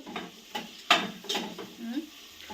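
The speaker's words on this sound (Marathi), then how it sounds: "सगळं मसालं ह्याच्यात मिक्स केलं मटर मसाला" Spoon stirring a masala and green peas mixture frying in a pan, a few distinct scraping strokes against the metal over a soft sizzle, close and moderately quiet.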